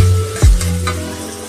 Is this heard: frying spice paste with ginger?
yes